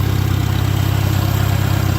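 A 1949 Farmall Super AV high-clearance tractor engine runs at a steady idle, loud and close, with an even low throbbing pulse and no voices.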